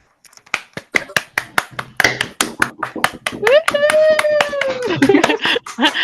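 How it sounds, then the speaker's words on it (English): Participants in an online meeting clap together after unmuting, scattered sharp individual claps in an uneven rhythm, joined by a sustained sung or hummed tone and voices partway through. "So unmute yourself and then let's just clap together."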